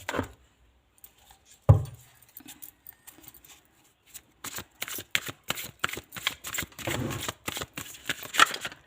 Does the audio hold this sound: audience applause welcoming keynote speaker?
no